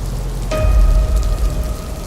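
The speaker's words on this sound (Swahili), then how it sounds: "Wakati mvua inanyesha." Rain falls in a steady, close hiss with a low rumble swelling underneath, continuous for the short stretch without pauses.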